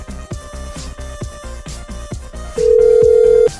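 Telephone ringing during a prank call, a steady repeating ring pattern over rhythmic line noise, ending in a long sustained tone near the end, loud and alone with no talk.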